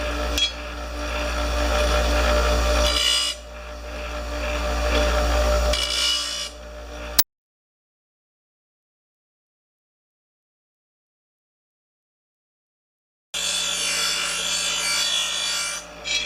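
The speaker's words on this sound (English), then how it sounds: "this I use the other grinder to sharpen. It's a little bit bigger." A larger bench grinder sharpens a blade with loud, rough, continuous grinding in two close bursts. It then cuts out for several seconds of silence before the harsh grinding starts again.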